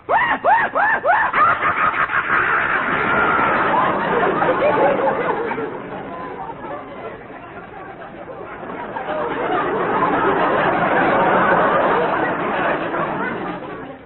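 A voice imitates a hyena with rapid, cackling screeches and chattering yelps, loud at first, dipping, then swelling again over about fourteen seconds.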